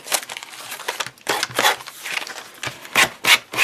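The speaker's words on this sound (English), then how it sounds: "And what I'll do is I'll go around and sand off the excess." Sanding pad rasping around the edge of a metal arrow blank to remove excess, a series of short rough scraping strokes up close.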